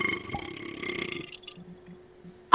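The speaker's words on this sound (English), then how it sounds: "I did a tiny burp." A tiny human burp, a short low rumbling belch at close range, ending with a brief sharp noise.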